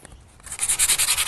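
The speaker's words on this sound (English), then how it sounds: "Just a little bit of sanding to hit those high points." Sandpaper rubbing over a wooden mini planter to give it a weathered look, starting as light scuffing and then settling into a run of rhythmic, loud back-and-forth strokes.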